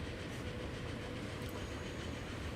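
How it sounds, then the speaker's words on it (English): A train passing in the railway video game Archipelago, a steady close rumble with dense rattling wheel noise, even and continuous for the whole moment. "let's go past another train"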